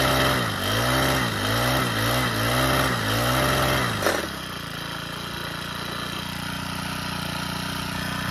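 A Troy Bilt 4-cycle edger with carburetor trouble runs unevenly, its engine hunting up and down in a regular surging rhythm for about four seconds before it cuts out and leaves only faint background noise.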